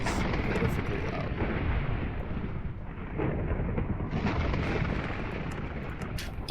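Lightning thunder in the Minecraft video game rumbles continuously in a deep, dense roar that holds steady for several seconds at low level, with no clear voices.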